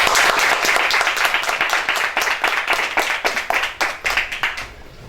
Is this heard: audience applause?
yes